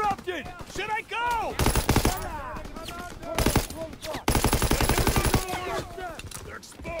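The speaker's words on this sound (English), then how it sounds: "Covering fire on the MG!" Machine gun fire in Call of Duty: WWII, with an MG pillbox being suppressed: rapid automatic bursts in two or three stretches, mixed with shouted battlefield voices and other game effects.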